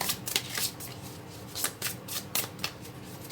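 Tarot cards shuffled by hand during a Virgo love reading, giving a steady run of soft riffling bursts and papery flicks, close and moderately quiet, with no talking.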